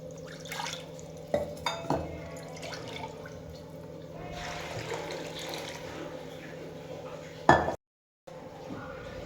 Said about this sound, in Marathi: अगदी थोडे पाणी घालते